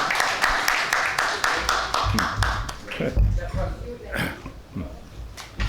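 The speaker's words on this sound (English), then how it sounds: "a great round of applause for Mukesh Bhai and Anjana" An audience at a book release gives a round of applause, a crowd of hands clapping briskly for a few seconds before it thins out into scattered claps, with voices and room noise underneath.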